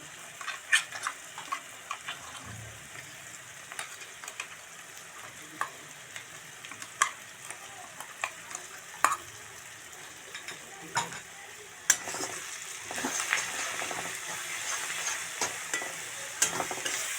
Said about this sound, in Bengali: এই যে মশলাটা ভাজা ভাজা হয়ে গেছে